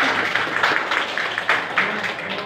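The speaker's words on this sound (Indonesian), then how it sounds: "Tepuk tangan untuk teman." Members of a local Indonesian citizens' band radio club (RAPI, Sumedang) clap for a new member at a meeting, a steady broadband patter of hands across the whole stretch with voices murmuring underneath.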